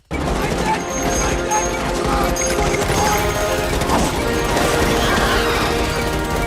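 An LMG machine gun in the shooter game Helldivers 2 fires in dense, continuous bursts, with loud overlapping shots and impacts that go on almost without pause.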